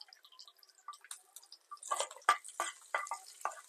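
Mustard seeds crackle and pop in hot oil for a bean palya, with a rapid run of sharp, close spits and bursts that thicken partway through, heard alone with no talk.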